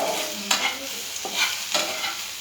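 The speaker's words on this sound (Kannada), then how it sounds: "ನೋಡಿ, ಹೆಂಗೆ ಫ್ರೈ ಆಗಿದೆ, ಈ ಥರ ಫ್ರೈ ಆಗಬೇಕು." Food frying in about two teaspoons of oil in a pan as it browns, giving a continuous close sizzle punctuated by a few scraping strokes of a spoon stirring.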